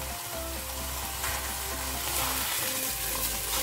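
Garlic and onion fry in a little vegetable oil in a pan, giving a continuous crackling sizzle that holds evenly and fairly softly, with no voices over it.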